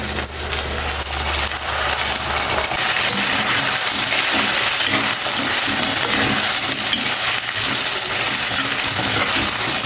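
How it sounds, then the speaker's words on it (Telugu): Potato pieces fry with onions in a hot pan, a loud, continuous close-up sizzle with clinks and scraping as the pieces are added and stirred. "పెట్టుకున్న ఈ బంగాళదుంప ముక్కలు ఇందులో వేసేయండి"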